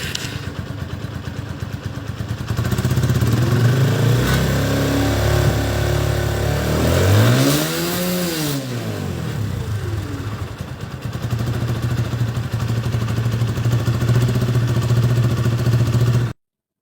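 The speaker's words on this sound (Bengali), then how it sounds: "চলুন আপনাদের ইঞ্জিন সাউন্ডটা শোনাই বাইকের।" A used motorcycle at a Bangladeshi dealer's lot starts and runs steadily, a low idle with one rising and falling rev in the middle, close and loud, then settling back to an even idle.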